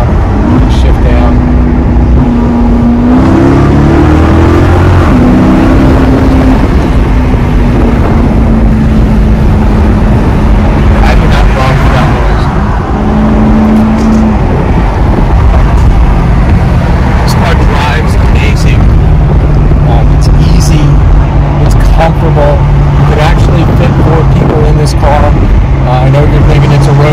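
Maserati GT Convertible engine while driving, a loud, continuous exhaust roar with audible pitch changes through a paddle-shift downshift, with a person talking over it.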